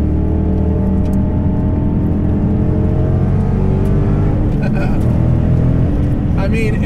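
Supercharged, widened and bagged 2015 Ford Mustang GT engine drones steadily while driving, a continuous loud hum with a brief throttle swell near the end, heard under conversation inside the car.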